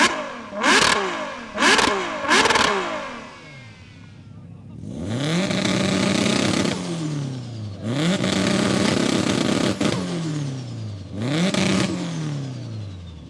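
A Ferrari supercar and an 800 hp rear-drive car alongside a 600 hp all-wheel-drive Subaru tuner rev hard for a sound check: three sharp blips, then several long roaring revs that rise and fall, loud and close.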